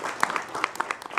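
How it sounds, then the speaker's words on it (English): A handful of people at a town council staff annual meeting clap lightly. The claps are scattered and uneven, a short patter of hand claps lasting just over a second. "I feel like clapping a little."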